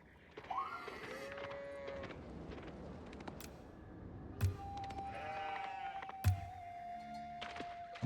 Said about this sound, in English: Both the scouts managing to find a lot of sheep.